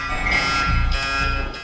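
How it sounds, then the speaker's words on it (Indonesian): A fire alarm in a film rings loudly and continuously, a harsh shrill electronic tone with pulsing bursts, filling the scene with no voices. "Semua orang berhamburan keluar saat alarm kebakaran tiba-tiba menyala"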